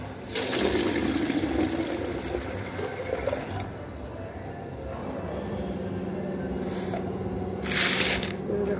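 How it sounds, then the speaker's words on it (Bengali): Water runs from a tap into a container, making a steady close rushing pour that shifts in tone as it fills, with a brief louder splash near the end. "দেখো জল ভরে নিয়েছি।"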